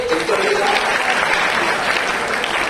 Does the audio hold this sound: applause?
yes